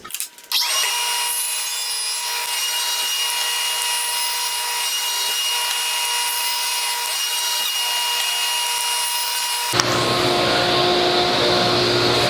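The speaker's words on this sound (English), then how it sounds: "I'm going to cut 3/4 of an inch off of this board on the heavy side, and then I'm going to creep up to it until it fits" A bandsaw cuts through a wooden board in one steady, loud, continuous whine, then the tone shifts abruptly near the end as the blade runs on.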